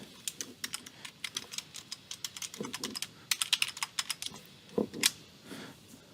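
Computer keyboard typing a first name, last name and password during a Mendeley account setup: rapid, irregular clicks and key taps, close and fairly quiet, with short pauses between bursts and no voices.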